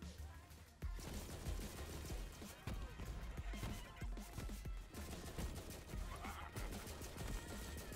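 Sentry pistol in the Borderlands 3 video game firing bullets and rockets: rapid, dense bursts of gunfire with sharp impacts and booms, repeating throughout while people talk over it.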